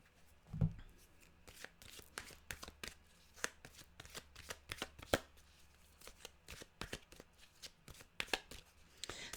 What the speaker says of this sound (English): They just don't seem to want to be shuffled.